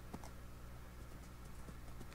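Faint horse hoofbeats clip-clopping in the Minecraft video game, a few soft irregular steps over a quiet background hum.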